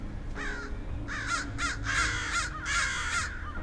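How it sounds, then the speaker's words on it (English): Several crows caw in loud, harsh bursts, fed peanuts in a yard, overlapping calls coming in quick clusters at close range. "That's the sound of a crow tea party"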